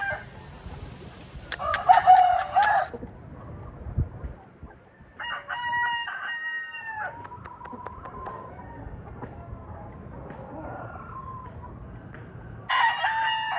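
Maclean Hatch gamefowl chickens cluck and a rooster crows in bursts, with quieter clucking and rustling between calls and a loud outburst at the end.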